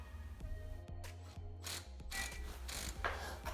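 Impact wrench compressing a strut spring on a 2005 Lexus RX330 with spring compressor tools, heard as rattling mechanical bursts, several short hammering runs over about three and a half seconds, close and moderately loud.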